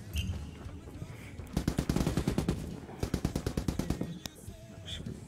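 SR635 guns firing in the video game Ghost Recon Wildlands, rapid automatic bursts of sharp shots in two strings, while commentators talk over them.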